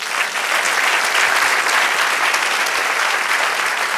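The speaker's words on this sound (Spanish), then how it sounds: "Dale un aplauso al Señor." A church congregation gives a full, steady round of applause during a Spanish-language sermon, loud and continuous for about four seconds with no one speaking.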